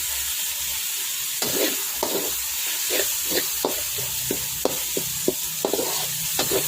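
Tomatoes sauté in a pan with a continuous hiss of frying, broken by repeated short scrapes and knocks as they are stirred at an irregular rhythm, close up and moderately loud.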